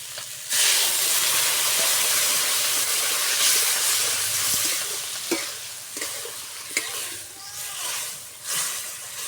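Water hits a hot pan of fish roe and taro stolons with a sudden loud hiss and steaming sizzle that holds steady, then softens, with a few clinks of stirring near the end.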